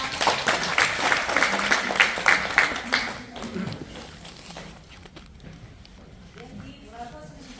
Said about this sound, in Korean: 자, 박수로 모시겠습니다